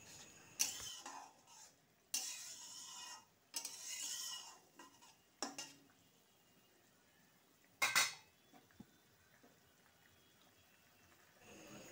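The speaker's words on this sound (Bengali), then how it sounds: "এইবার আমি নেড়ে দিচ্ছি।" Food is stirred in a cooking pot after simmering under a lid, with several short bursts of metal spoon scraping and clinking against the pot separated by quiet pauses.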